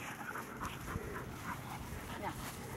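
Puppy whimpering softly in a home, with small whines and panting under a person's affectionate talk.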